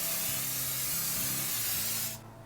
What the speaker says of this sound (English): Line a baking sheet with parchment paper or lightly spray with cooking spray,